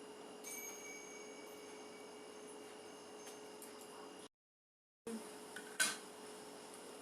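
A lid is set over a container of raw mango pickle, producing a single short metallic clink near the end against a quiet room hum, after a few faint handling sounds.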